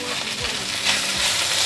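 Mushrooms and pan-fried tofu stir-fried together in a pan, giving a steady close sizzle with a few soft scrapes of a spatula and no talking.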